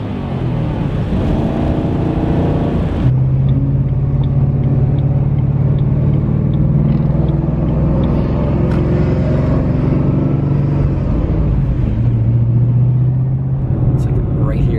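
A car engine at full throttle drones loudly and steadily from inside the cabin, a deep sustained roar with a slight pitch dip near the end, and voices talk over it.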